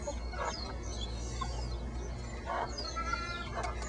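Backyard hens squabble and cluck as one mother hen, Chicken, pecks at a half-grown chick, short agitated clucks and squawks rising now and then over a steady low background hum.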